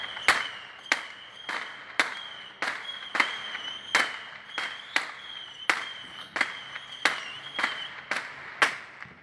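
Rocket firecrackers bang outdoors at night, a steady series of about eighteen sharp cracks roughly every half second, moderately distant, with a faint whistling tone running between the bursts.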